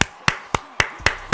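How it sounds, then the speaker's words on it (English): Six sharp hand claps spaced about a quarter second apart, close and crisp, each a bright broadband smack with a quick decay and nothing else around them. "Clap it up for yourselves, okay?"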